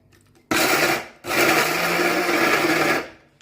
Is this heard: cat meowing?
no